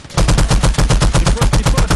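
Loud, fast automatic gunfire in a video game, a steady rhythmic burst of about fifteen evenly spaced shots with no talking.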